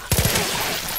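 A quick burst of three rapid gunshots from a weapon in the video game Far Cry 5, fairly loud, followed by a fading rumble with no voices.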